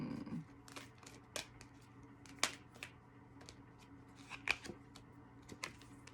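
Quiet, sporadic riffling and soft snaps of tarot cards being shuffled, a few brief bursts spaced apart against a faint low hum.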